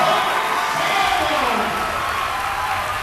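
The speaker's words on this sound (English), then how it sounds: "You can hear this crowd get behind Ambrose right now" A packed gym crowd at a men's college volleyball semifinal roars steadily for Saint Ambrose, a dense continuous wall of cheering and clapping throughout, loud and enveloping.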